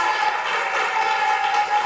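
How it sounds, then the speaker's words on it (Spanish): A studio audience claps steadily for actress Marianela González, a dense, even wash of applause lasting a couple of seconds with no talking over it. "Un aplauso a Marinela González"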